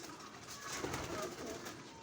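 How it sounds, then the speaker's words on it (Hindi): Pigeons coo softly nearby, low soft calls repeating over a faint background hum, with no speech. "कबूतर क्रीज में है।"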